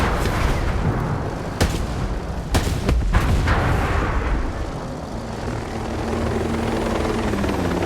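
Helicopter in the video game Ghost Recon Breakpoint, its loud rotor roar filling the scene up close, punctuated by several sharp bangs in the first half before settling into a steady drone.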